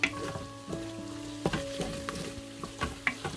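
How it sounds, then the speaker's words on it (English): Tomato puree cooking in a pan for a homestyle lamb curry gives a steady close sizzle, broken by the scraping knocks of stirring, with a faint tonal hum underneath and no talking. "I'm going to let that tomato puree just cook out ever so slightly."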